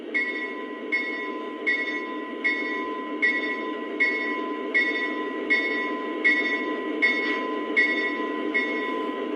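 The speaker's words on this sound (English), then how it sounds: "now let's hear the bell" Bell of an RJ Corman SD40T-2 model locomotive ringing in a steady, even rhythm, about twelve clear metallic strikes over a constant electronic hum, loud and close with no talking.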